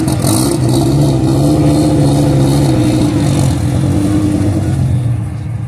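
A Porsche engine drones loudly and steadily nearby at a busy gas station gathering, a sustained mid-pitched roar with slight swells, with no talk over it.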